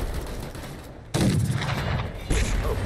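Howitzer artillery fire in the Fallout video game: loud booming blasts, one around the middle and another near the end, over a steady din of gunfire and battle noise, with no talking.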